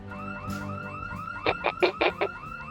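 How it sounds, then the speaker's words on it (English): Car alarm from the video game Project Zomboid, a repeating electronic siren tone that swells into a series of loud rhythmic whoops, about six pulses, heard alone without talk. "An alarm went off."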